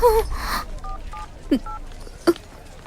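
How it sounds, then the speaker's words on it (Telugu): Short dual-tone beeps of telephone dialing, a few separate tones spaced out, with faint background noise and brief clicks between them. "ముందు శ్రీకాంత్ ఫోన్ చేయి."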